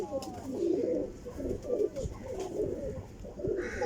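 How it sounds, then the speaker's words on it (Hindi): Pigeons coo repeatedly at a pigeon keeper's loft, low throaty rolling calls in a steady, overlapping rhythm, close and clear, with faint background noise. "ज़रा गौर करियो कबूतरां दे"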